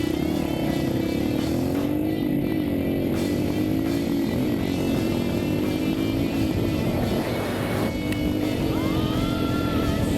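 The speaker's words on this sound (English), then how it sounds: "It's the vintage motocross drag racing video." Vintage motocross motorcycles drag racing, loud buzzing two-stroke engine whine sustained across the run, rising and falling pitch as bikes accelerate, heard up close with crowd ambience underneath.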